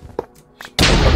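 A loud explosion in the video game Minecraft bursts in suddenly and fills the sound after a few quieter game noises.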